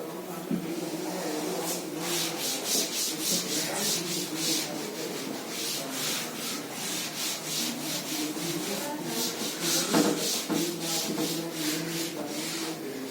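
Writing is rubbed off a classroom board in a steady, close scraping and brushing rhythm of repeated back-and-forth strokes, continuous and fairly loud throughout.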